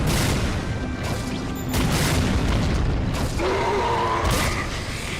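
In the Resident Evil Dead Aim video game, a loud grenade launcher explosion booms with a heavy, rumbling blast and creaking, metallic mechanical noises, dense and close throughout.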